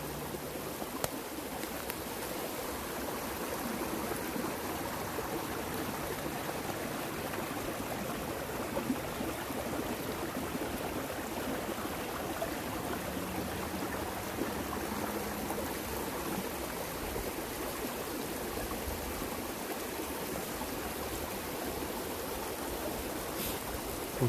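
Steady broadband rush of a stream's flowing water in a large forested nature reserve, continuous and fairly close, with no voices.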